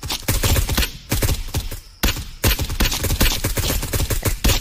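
Heavy sustained gunfire in a night-ops military video game, several weapons firing rapid loud volleys together in close, dense bursts with brief pauses between them.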